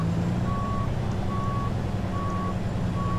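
A Kenworth T-609 truck in American Truck Simulator sounds reversing beeps, four evenly spaced steady tones over a constant low diesel engine rumble, with no talking.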